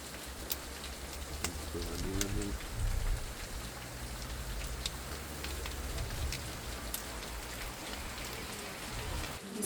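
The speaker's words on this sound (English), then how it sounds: "The next day, we experienced our first rain since arriving in" Steady rain falls in Norway, a dense, constant patter of drops on surfaces with occasional sharper ticks, continuous and fairly close under a low rumble.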